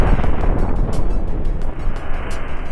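Cannon fire from ships in the space combat game Cosmoteer, a dense, loud barrage of booming shots with sharp, regularly spaced cracks over a continuous low rumble.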